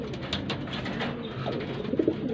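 Pigeons cooing in a loft, soft repeated throaty coos from several birds close by, with faint rustling and no talk.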